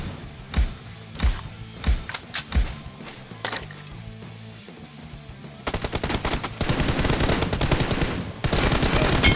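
M416 rifle fire in a 1v1 team deathmatch mobile game: spaced single shots and short bursts at first, then rapid sustained automatic volleys, loud and close.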